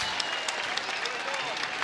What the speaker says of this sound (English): let's give these 2 South American warriors a big round of applause